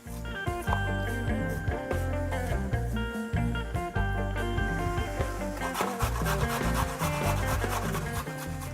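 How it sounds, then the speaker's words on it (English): Cabbage being grated by hand for a quick pickled salad at a Greek gastronomy festival in Hong Kong, a steady run of close rasping strokes over a continuous tonal, music-like background. "I love grating vegetables for salads because you create kind of very thinly grated vegetables"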